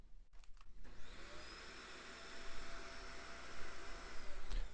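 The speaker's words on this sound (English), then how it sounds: "I'm going to turn the vacuum on." A vacuum cleaner switches on after a brief click and keeps running, a steady whining roar heard at moderate distance indoors with no talk over it.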